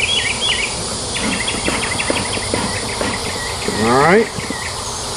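Honey bees buzz steadily around an opened Flow Hive, a close, continuous droning hum. A person speaks briefly, and a rising tonal whine swells for a moment near the end.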